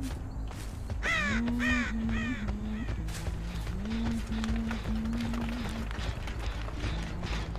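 Several crows caw harshly and repeatedly in Dead by Daylight, loud and close, over a steady low game ambience with faint rustling and footstep-like thuds.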